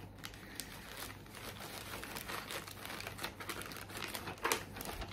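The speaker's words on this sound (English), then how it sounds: "And I did have a plastic bag, there it is." A plastic bag rustles and crinkles steadily near the microphone, a soft continuous crackle with a few sharper peaks and a low hum underneath.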